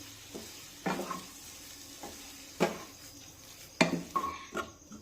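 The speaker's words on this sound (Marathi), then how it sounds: "आता जसजसं आपण हे बेसन पीठ उलटण्याने हलवून घेऊ ना, तसतसं ते मोकळं मोकळं होत जाईल" A spatula stirs besan bhurji (gram flour scramble) in a frying pan, making intermittent scraping and tapping strokes against the pan over a low sizzle, close and fairly quiet, with no talking.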